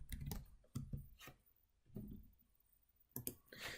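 Code being typed on a computer keyboard, with bursts of quick clicking keystrokes separated by short pauses, close and fairly quiet.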